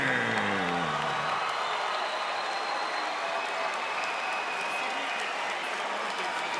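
A boxing arena crowd applauds the heavyweight fighters after the fight, a dense wash of clapping and cheering that fills the hall, with a voice heard briefly at the start.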